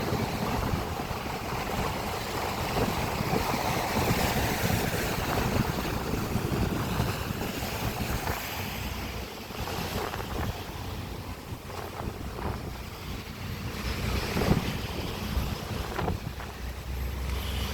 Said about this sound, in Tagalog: Malakas yung hampas ng tubig.